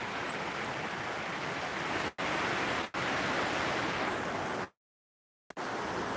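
A river rushes past in a steady, loud broadband wash, cut by a couple of brief dropouts and one full second of silence near the end.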